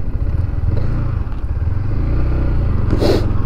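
A Yamaha MT15 motorcycle rides along with a continuous engine drone and wind rumble, close and fairly loud, with a brief rattling clatter near the end.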